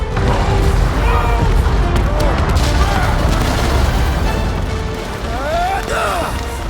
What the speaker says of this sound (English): Okay, they're set to blow!